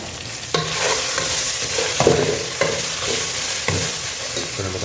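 Ghee in a frying pan being stirred, the spoon scraping in a few distinct strokes over a steady, close sizzle of frying.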